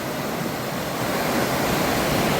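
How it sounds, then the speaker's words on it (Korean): Rushing stream water in a swollen mountain valley at Odaesan, a steady, dense, loud broadband roar with no pauses, heard alone without voices. "시냇물이 엄청 많이 불어났습니다. 물소리도 너무 좋고요."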